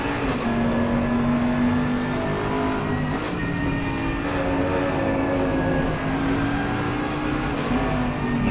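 Race cars scream around the Suzuka circuit in a sim racing video game, a steady high-pitched engine drone with layered whining tones and slight rises and falls as cars run side by side, continuous and loud with no talking.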